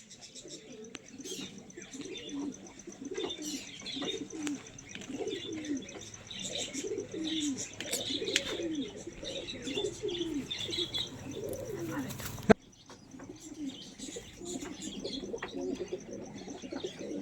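Regdar pigeons coo repeatedly in soft, throaty rolls close by, with scattered chirps and a brief sharp knock near the end, the cooing continuing alone without talk.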